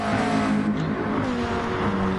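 McLaren GT2 race cars roaring together around a track in GT Sport, a loud sustained engine drone with shifting pitch as the cars run close.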